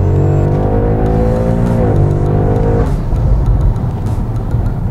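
A turbocharged Audi RS6 or BMW M5 accelerates hard from inside the cabin, its engine note rising through the revs, dropping sharply at a gear change, then building again under a loud roar.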